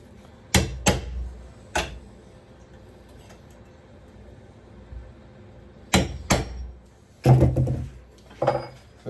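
Sharp metallic hammer blows drive a punch through metal on a Mazda MX-5 Mk1 number plate light fitting, in small clusters, a few spaced apart, with quiet pauses between and a final flurry of heavier knocks.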